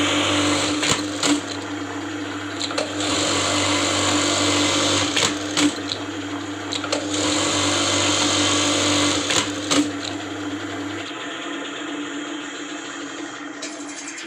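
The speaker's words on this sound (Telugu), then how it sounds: "గుండీల మిషన్ కూడా ఉంది, అది కూడా చూపిస్తాను." A buttonhole sewing machine stitching steadily at close range, a loud continuous mechanical whir with a rapid rattling rhythm and occasional sharp clicks, running alone before the motor hum drops near the end.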